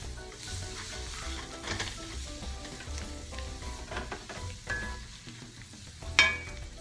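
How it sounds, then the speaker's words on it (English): Chopped cilantro worked into a sizzling masala in a pan on medium-low heat, a steady close frying hiss under soft scraping stirs, with one sharper clink near the end and no voices. "we're going to mix this into the masala"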